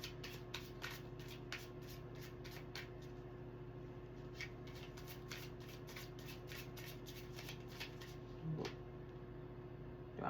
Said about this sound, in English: I pre-shuffle all these decks, but I'm shuffling again on camera